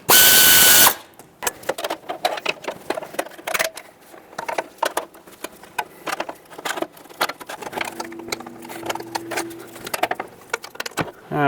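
Metallic clicks, taps and light ratcheting as a mounting nut is threaded by hand onto an exhaust manifold stud of a 2011-2018 Ram 2500 with the 6.4L HEMI, close and intermittent with short pauses.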